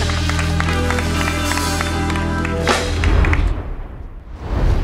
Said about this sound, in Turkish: Evet, kocaman bir alkış.